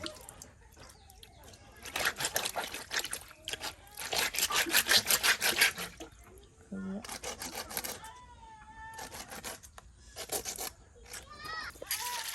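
Taki and koi fish are scrubbed clean by hand against a rough surface in a village kitchen, giving bursts of close, rasping scraping strokes with pauses between, under a voice.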